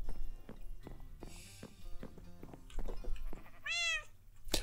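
A Minecraft cat lets out a single clear meow near the end, following a run of soft blocky footsteps and game noises, with no one talking.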